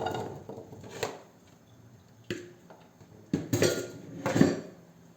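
Potatoes being dropped into a güveç cooking pot for beef pöç, a series of close, sharp knocks and clinks at irregular intervals against a quiet background.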